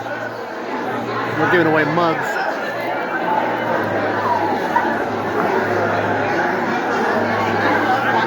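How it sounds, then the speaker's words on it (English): A big crowd chatters outside a church in Mount Dora, Florida, a continuous murmur of many overlapping voices with occasional laughter, while a nearby voice speaks over it. "Big crowd out here today."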